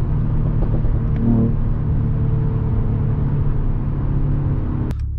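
Mercedes-AMG E53 Convertible cruising on the Autobahn, its engine giving a steady close rumble under road and wind noise, with a brief sharp click near the end.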